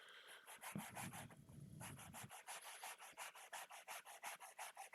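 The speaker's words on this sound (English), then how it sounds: "it's a 220 grit sanding block" A 220 grit sanding block rubs back and forth across an Xbox part being stripped of silver paint, giving quick, even rasping strokes close by, with a brief low bump early on.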